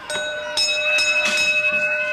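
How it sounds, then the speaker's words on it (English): A wrestling ring bell clangs repeatedly to end a match in a television studio, bright ringing strikes with a sustained metallic tone over crowd noise. "Ring the bell."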